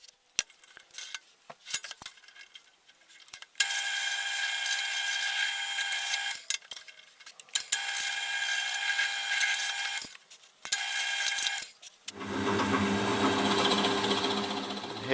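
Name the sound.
cutting oval counterbores for bolts in workbench end cap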